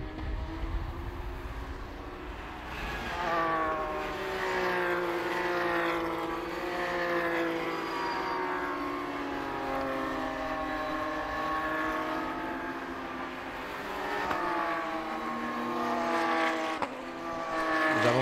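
Porsche GT3 Cup race cars on a formation lap at a racetrack, a pack of engines droning and shifting through the gears, rising and falling in pitch as they pass at a steady, fairly loud distance.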